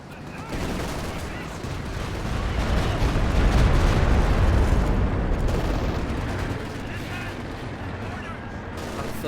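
Brummbär assault gun firing in the World War II strategy game Company of Heroes, a heavy boom that swells into a long rumbling roar over several seconds, mixed with other battle noise and a voice commentating.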